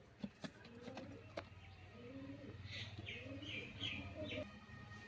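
Teddy pigeons, a breeding pair kept for sale, cooing in soft repeated throaty phrases close by, with a few sharp clicks and flutters, under faint background noise.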